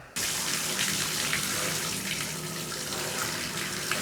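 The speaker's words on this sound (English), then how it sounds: "So now we're gonna check the shower." A shower being tested by a plumber during maintenance, with hot and cold controls being checked, bursts on abruptly after a brief silence into a loud, close, continuous rush of running water that holds steady to the end.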